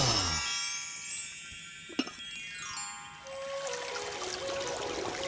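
Water poured out to drink in an animated Telugu children's film: a bright trickling pour with a light tinkle, set against steady sustained musical tones, with one sharp knock midway.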